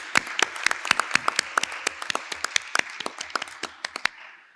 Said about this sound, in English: Now, applause for Christine.